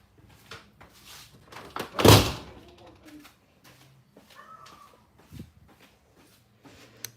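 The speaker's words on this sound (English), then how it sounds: "I gotta close this door all the way." A door is pushed shut all the way, a single loud thump near the middle with a short rattle, amid scattered small handling noises in a quiet room.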